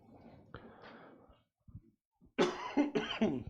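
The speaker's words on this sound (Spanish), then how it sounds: "les pido excusa por la tosecita" A man preaching at a church family meeting gives a few quiet coughs, then a louder cluster of close throat-clearing coughs near the end, with silent gaps between.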